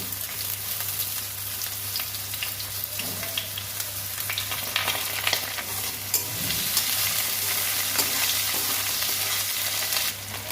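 Potato and ginger frying in a pan, a continuous bright sizzle with occasional stirring scrapes and a steady low hum beneath, no one speaking.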